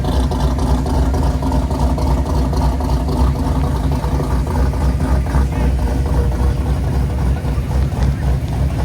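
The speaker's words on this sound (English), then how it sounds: "Listen to Vinny's car." Vinny's car, a Fox-body at a Foxtoberfest meet, engine running with a loud, steady low rumble close by and a lumpy, pulsing idle texture throughout, no voices.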